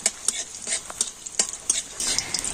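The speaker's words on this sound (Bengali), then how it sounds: "জিরে আর ধনেটা একটু হালকা লাল লাল করে ভেজে নেব।" Whole cumin and coriander seeds fry in hot oil with a steady high crackle, broken by several quick stirring scrapes and light clinks of a utensil against the pan, close by with no talking.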